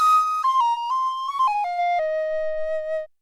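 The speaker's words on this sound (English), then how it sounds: "The first thing I want to show you is this beautiful woodwind tin whistle." A sampled tin whistle from a Fracture Sounds woodwind library, close signal, playing a short descending melodic phrase of clear breathy notes, solo and close, ending on a held note.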